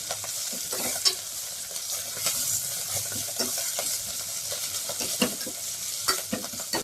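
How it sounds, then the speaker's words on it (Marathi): Fenugreek leaves sauté in hot oil, a steady bright sizzle broken by soft scraping stirs and occasional louder clinks of a spoon against the pan, with no one talking. "मेथी छानपैकी आपण तेलामध्ये परतून घ्यायची"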